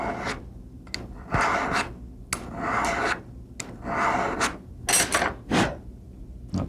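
Metal is filed off a gun part at a gunsmithing bench: repeated rasping strokes, each a short broadband scrape roughly every half second to second, close and fairly loud with brief pauses between.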